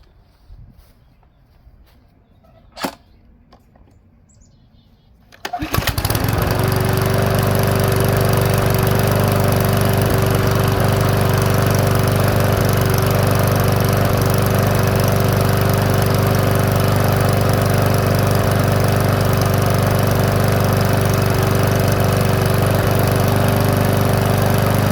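After a few seconds of quiet with a faint bump, a Powersmart 170 lawn mower engine starts and runs steadily and loudly at a constant droning pitch, slightly slow at about 2,900 RPM.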